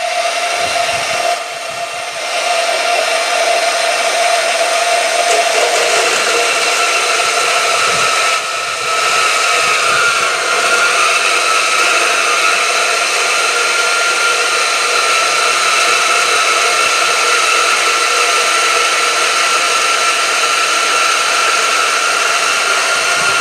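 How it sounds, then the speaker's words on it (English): A Bauer band saw from Harbor Freight runs loud and steady as it cuts through metal, giving a continuous whining drone with a brief dip partway through and no talking. "So I'm just going to seat the brushes a little bit and then we'll get to testing it on some metal."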